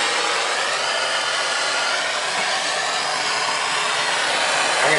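A gas torch heats a fluxed joint on a copper water line during a plumbing repair, giving a steady, loud, even roaring hiss that holds unbroken throughout.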